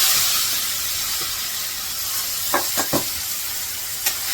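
Finely chopped onion sizzles in a generous amount of hot oil, a steady hiss broken by a few brief clatters of stirring, close and without talk.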